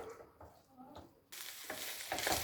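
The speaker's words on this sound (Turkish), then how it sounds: "Şimdi güzelce kavuracağız yaklaşık bir 10 dakika kadar." Boiled chicken is sautéed with soy sauce in a pan. Quiet stirring scrapes give way to a loud, steady close sizzle that fills the rest of the clip.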